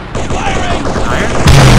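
Gunfire in the video game Halo SPV3, loud dense bursts of shots and blasts packed together, with voices shouting over the din and a heavier boom near the end.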